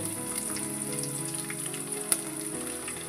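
Ginger and garlic frying in a pan with urad dal while making a simple rice dish, giving a steady, even sizzle throughout with one brief clink partway through, no talking.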